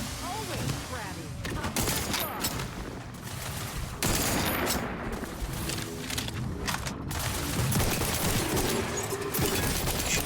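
Gunfire from The Outer Worlds 2 game, dense bursts of shots and rapid firing over about ten seconds, with voices talking intermittently beneath the shooting.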